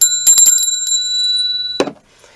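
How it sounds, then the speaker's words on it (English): A small bell decorated with a fish rings with a clear, bright tone, struck a few times in quick succession and left to sustain before being damped by a soft handling knock. "Then we have a bell which has a fish on it."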